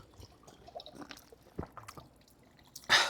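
Water trickles out from between stones beside a mountain path at Tooti Pal Top near Baramulla, Kashmir: faint scattered drips and small splashes, ending in a brief louder gush.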